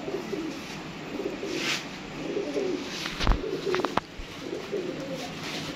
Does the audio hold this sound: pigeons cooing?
yes